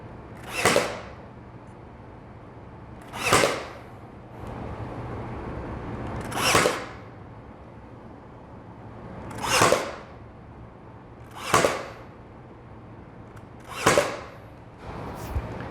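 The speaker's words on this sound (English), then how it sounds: "After pin nailing it" A pin nailer drives pins into wood for a homemade T-square, giving about seven sharp, close pops spaced a couple of seconds apart over a quiet background.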